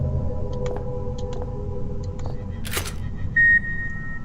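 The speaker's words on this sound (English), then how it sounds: "It beeped. And a chime was played." A short electronic beep and sustained chime tone from the horror video game Penumbra: Black Plague, a bright steady tone held for about a quarter second near the end, preceded by faint clicks over a low background hum.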